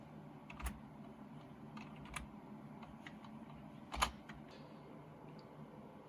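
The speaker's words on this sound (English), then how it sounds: "Floppy drive sounds." A floppy drive in a 1990s desktop computer gives faint, sparse mechanical clicks and ticks over a quiet hum, with one sharper click near the end.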